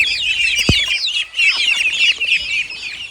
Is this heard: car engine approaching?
no